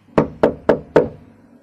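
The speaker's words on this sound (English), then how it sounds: "So I knocked again." Four steady knocks on a bedroom door, loud and close, with a slight pause between each rap and a short fading tail after the last, no talking.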